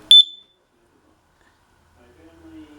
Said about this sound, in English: Stupid alarm, it's loud.